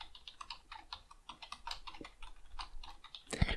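Fast typing on a computer keyboard, with quick irregular key clicks running steadily throughout and a single sharper thump near the end, close and moderately quiet.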